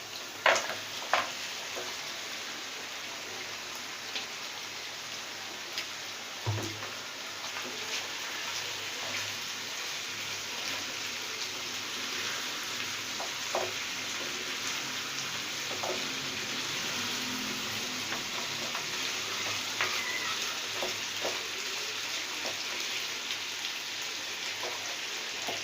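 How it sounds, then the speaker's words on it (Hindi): Boiled mutton for a white korma fries over a high flame, a soft, even hiss like light rain with scattered small pops and crackles that runs steadily throughout. "एक मिनट तक इसको भूनेंगे हाई फ्लेम पे"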